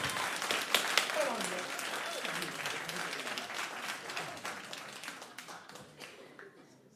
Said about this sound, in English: Could you start us clapping, please?